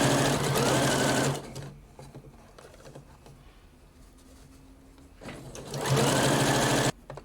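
A sewing machine stitches a blouse sleeve in two loud, close bursts, separated by a quieter pause with faint handling noise.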